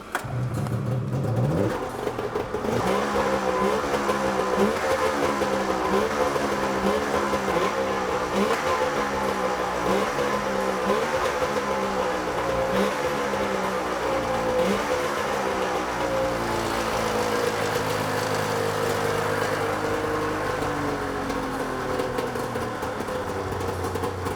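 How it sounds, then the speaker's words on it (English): A turbocharged snowmobile engine runs steadily close by, a loud continuous mechanical drone with a rhythmic pulsing throb that does not let up. "That's a snowmobile with a turbo on it that's spinning a little bit."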